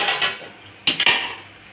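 A metal lid comes off a pan of chocolate cake cooking on a gas stove, followed by a metal fork clinking against the pan: a few close, bright clinks and scrapes.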